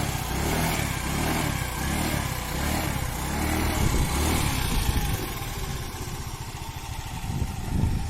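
A 50cc scooter engine runs close by, its buzzy motor rising and falling as the throttle is opened and eased off in repeated cycles during low-speed riding practice.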